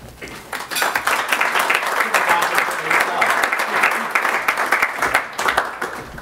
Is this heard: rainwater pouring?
no